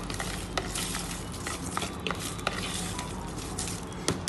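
Chopped onion and green chili being mixed in a microwave-safe bowl, a dense close scraping stir with a few sharper clinks of spoon against the bowl, no talking.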